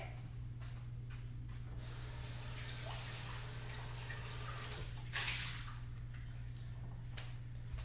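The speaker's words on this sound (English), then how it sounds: "I'm going to rinse out my little bowl real quick." Water runs from a kitchen tap to rinse out a small mixing bowl, a steady soft hiss and splash over a constant low hum, with a brief louder gush near the end.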